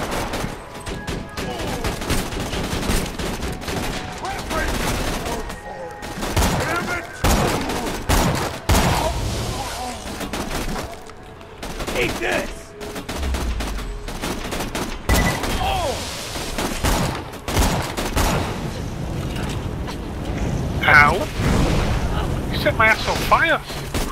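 Rapid gunfire and explosions in the co-op shooter Borderlands 2, dense bursts of shots and booms packed throughout, with people talking over the action at times.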